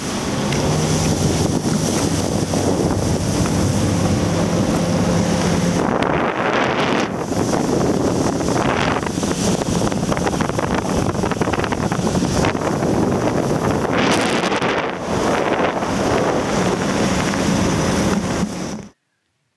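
Motorboat ride along a river mouth off New Britain, Papua New Guinea, on a fishing trip: a loud continuous engine drone mixed with heavy wind buffeting and water rush, steady throughout before cutting off abruptly.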